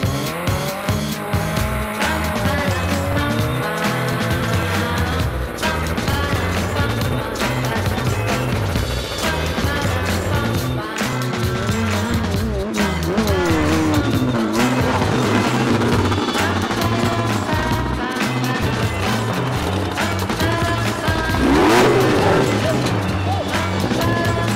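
Off-road race cars run a Baja race course in Mexico, engines roaring steadily and tires squealing through a checkpoint stretch, with a voice talking over the continuous loud motor noise.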